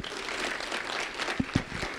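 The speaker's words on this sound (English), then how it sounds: "A round of applause" A crowd claps in a short burst of applause for a school board member at a public event, with a few sharper, louder claps standing out near the end.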